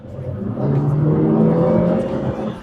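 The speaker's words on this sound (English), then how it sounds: "I'm spending my workday driving around in a beautifully handling mid-engine sports car" A Lotus Emira mid-engine four-cylinder sports car drives past, its engine note rising into a loud, steady whirring hum that holds for a couple of seconds before easing off, heard on its own without voices.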